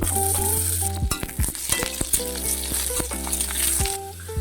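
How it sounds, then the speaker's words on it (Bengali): Potato and pumpkin pieces fry in hot oil with a loud, steady, close sizzle, broken by a burst of spatula scrapes and clinks against the pan midway. "আলুটা অল্প ভাজা হয়ে গেছে, এবার কুমড়োগুলো দিয়ে দেবো"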